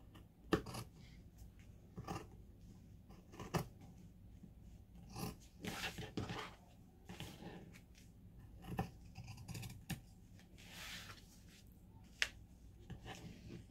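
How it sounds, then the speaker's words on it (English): Scissors snip through a fabric patch cut from an upcycled cardigan, giving a series of irregular, close, crisp cuts and clicks spread over several seconds with short pauses between them. "So let's go ahead and get this patch cut out."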